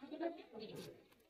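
Madrasi pigeons in a cage at the Uluberia bird market give a short, soft, nearby coo, faint and brief against low market background noise.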